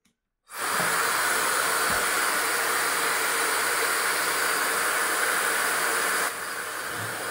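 A Lydsto S1 hair dryer switches on abruptly, then blows a loud, steady whooshing hiss that runs for several seconds before dropping to a slightly lower power level near the end.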